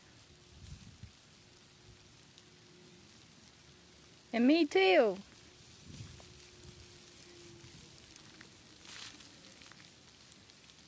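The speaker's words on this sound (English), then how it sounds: "Here comes the rain again" Soft patter of large raindrops falling in the background under tree cover, with a brief burst of birdsong partway through and a short spoken remark.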